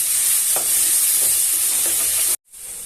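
Chilli paste fries in a pan with a steady, loud sizzle, while a few soft scraping stirs land at regular intervals; near the end the sound cuts out briefly, then the sizzle resumes.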